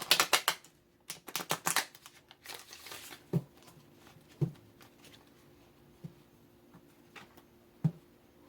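Fast crisp riffling of a card deck at first, then scattered softer card taps and snaps at a close distance.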